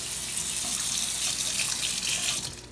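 Tap water runs steadily into a sink as a jewelry lobster clasp is rinsed under the stream, a close, continuous splashing gush with no voices.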